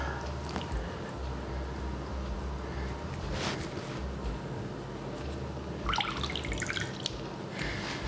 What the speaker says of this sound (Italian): Uso la siringa per essere preciso, io lo vado a sparare dentro.